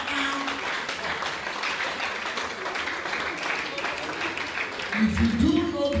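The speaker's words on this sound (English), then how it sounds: "Please clap for him." Audience at an award ceremony clapping in a continuous, fairly loud wash, with voices and a low murmur rising over it toward the end.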